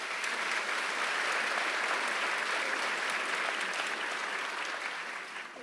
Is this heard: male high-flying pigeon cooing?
no